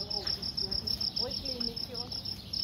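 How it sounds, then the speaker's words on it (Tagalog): Crickets chirping at night in a rural province in the Philippines, a steady pulsing trill close by, with faint distant sounds beneath. "May kuliglig siya."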